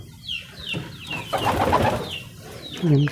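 Pigeons coo repeatedly while being fed wheat, soft rolling calls from several birds close by, with wing flutters and shuffling in between.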